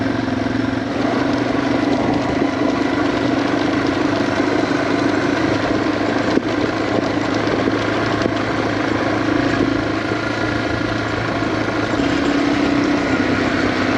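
A Yamaha TW200 motorcycle ridden along a mountain road through Tatham Gap, its engine giving a steady, close, loud drone throughout with no talking.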